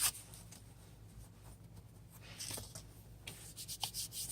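An IQOS 3 device is wiped with a dry cleaning cloth, giving soft close rubbing strokes that are quiet and intermittent, with a few brief scuffs near the end and no talk.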